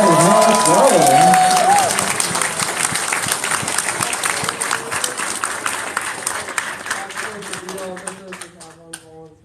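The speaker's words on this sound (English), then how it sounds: "A round of applause for Sven." Applause for Sven at the furcationland closing ceremony: a crowd claps and cheers loudly with a voice over it at first, then the clapping thins into scattered individual claps as it fades.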